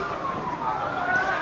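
Police car siren wailing through a Hong Kong street protest, a steady, fairly loud rising tone held throughout under a broad wash of crowd noise and voices.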